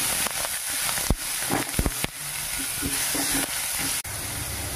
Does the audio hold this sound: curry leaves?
yes